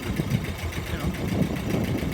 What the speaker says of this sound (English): The engine sounds good, but I think most of the time I'd probably run it at about 1800 RPM or maybe 2000.